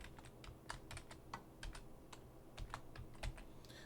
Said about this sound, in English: I'm going to type that in here now.